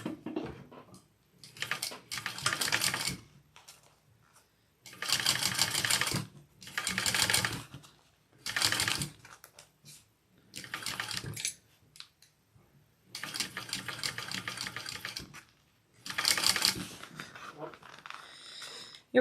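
A sewing machine stitches piping in repeated short runs, each a rapid mechanical clatter lasting a second or two, separated by quiet pauses with a few faint voice sounds between.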